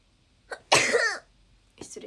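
A young woman lets out one sharp, loud sneeze, a sudden burst with a short trailing breath, between brief soft sounds of her voice.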